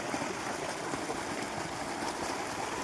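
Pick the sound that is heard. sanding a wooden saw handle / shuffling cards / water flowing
water flowing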